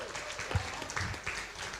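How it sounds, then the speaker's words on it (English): Audience applause at a live magic show, a short burst of clapping from the crowd that swells and then thins over about two seconds, fairly faint and diffuse. "Everyone give Keith a round of applause."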